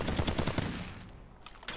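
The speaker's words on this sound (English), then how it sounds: "It's basically a grenade, but it's basically just firecrackers." A firecracker grenade goes off in a video game, a rapid crackling string of sharp pops for under a second that then fades away, with one last faint crack at the end.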